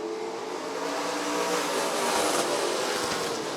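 Late model race cars roar around Rockford Speedway, a dense, sustained engine drone that swells slightly as the field passes nearby, loud and unbroken with no talking over it.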